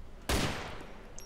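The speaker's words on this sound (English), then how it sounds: "It's a different type of gunfire then." A single sharp gunshot in the video game DayZ cracks out loudly, then rings and fades into a noisy tail.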